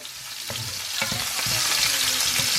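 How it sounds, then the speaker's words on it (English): Onions frying in hot cooking oil, a steady bright sizzle with a few soft stirring knocks from a utensil, close and continuous, no talking. "Got the onions. Boom. Cook the onions like that."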